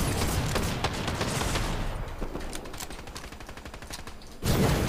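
Sniper rifle gunshots fired without scoping in the video game Fortnite, heard as loud, sharp cracks mixed into dense, continuous game gunfire and action noise, with a burst of loud noise at the very end.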